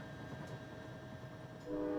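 A train rumbles quietly at a distance, and near the end a multi-tone horn sounds and swells louder, with no voices.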